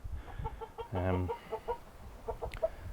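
A hen clucks repeatedly while being held and handled, with short close clucks, a louder throaty burst in the middle, and a brief higher squawk near the end over faint room noise.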